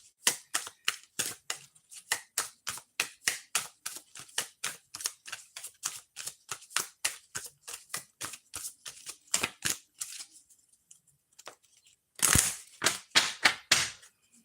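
A deck of playing cards is shuffled over and over, giving crisp rapid snapping bursts in a regular rhythm. A brief lull comes near the end, followed by a louder flurry.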